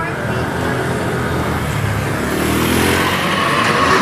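Motorcycle ridden along, a steady engine drone mixed with loud wind rush throughout, rising slightly toward the end.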